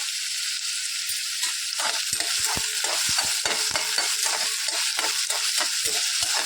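Garlic and onion fry in hot oil in a pan, giving a continuous close sizzle broken by scraping stirs and light clinks of the utensil against the pan.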